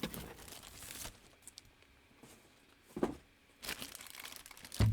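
Plastic wrapping comes off a Spellbinders Lilac Shimmer Scout toy, producing close, short bursts of crinkling and rustling separated by quiet pauses.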